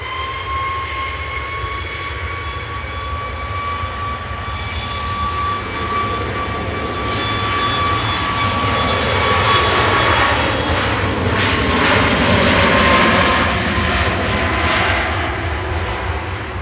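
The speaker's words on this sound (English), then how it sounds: "Ryanair to Malaga with flight 3208" Ryanair jet airliner departing Manchester Airport for Malaga, a loud steady engine roar with a high whine that swells and peaks past the midpoint before easing slightly, with no voices.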